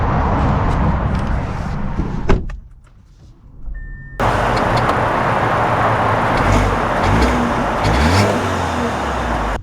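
A 2024 Audi A4 sedan with Premium Plus and Black Optics packages is heard from inside as road and engine noise fills the cabin. The sound drops out briefly, then returns as a steady, loud drive hum with rising engine tones.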